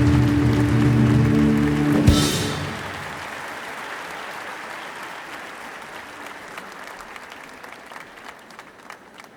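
A concert crowd applauds a singer at the Zlatna Bubamara 2026 event, with loud clapping swelling briefly and then fading into a softer, lingering patter as the music ends.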